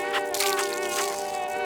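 A mosquito's high, whining buzz from the game Limbo drones steadily and close, with harmonic tones that swell and fade slightly. No one speaks.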